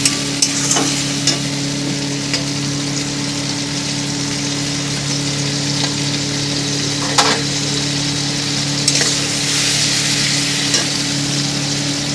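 Grated tomato, slit green chillies and onion paste sizzle steadily in hot oil for a spicy fish curry, a continuous frying hiss broken by occasional sharp stirring scrapes and clacks, with no talking.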